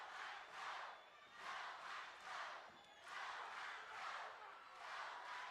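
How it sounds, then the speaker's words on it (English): A large indoor wrestling arena crowd at the Sportatorium roars in rhythmic waves, swelling and fading about once a second, as if chanting together, heard from a distance. "Listen to the crowd here."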